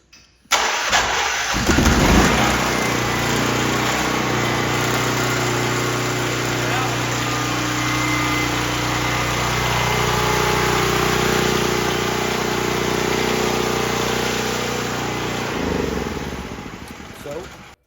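A Pulsar portable generator with its choke engaged cranks, catches and starts, then settles into a steady loud running drone that holds for over ten seconds before cutting off.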